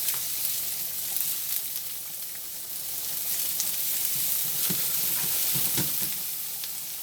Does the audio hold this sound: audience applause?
no